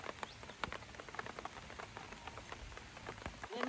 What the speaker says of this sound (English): I don't have to water since the rain is starting.